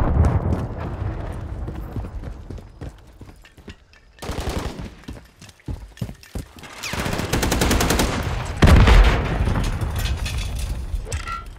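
A remote turret in an MW3 match fires long, loud, rapid machine-gun bursts, rattling steadily for several seconds over earlier scattered shots.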